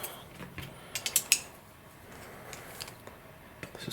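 Disc rotor bolts threaded in by hand with a T15 Torx driver on a carbon road bike wheel give small scattered clicks and ratcheting ticks, with a few sharper taps near the middle, close and quiet with no talking.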